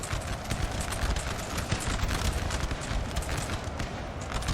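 Cavalry horses gallop across a Napoleon: Total War battlefield, a dense, continuous drumming of many hooves blended with a broad rumble of battle noise, steady and loud throughout.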